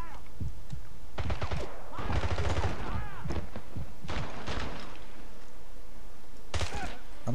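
Gunfire in the video game 007: Blood Stone, with loud rapid bursts and single sharp shots in clusters, some ringing impacts, over a constant game background with a voice briefly talking.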